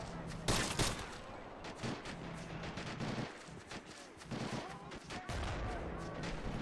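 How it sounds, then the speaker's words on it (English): Gunfire in the WWII strategy game Men of War: Assault Squad, set during a 1944 German counter-attack on the Western Front, with scattered shots and bursts that crack out at uneven intervals over a busy battlefield background. "I keep hearing gunshots."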